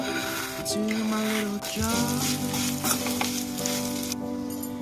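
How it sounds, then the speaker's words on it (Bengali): Vermicelli (semai) frying in oil in a pan, a steady close sizzle with light stirring scrapes and a tonal hum underneath throughout. "এবার ওই তেলে সিমাগুলোকে ভালো করে ভেজে নেব"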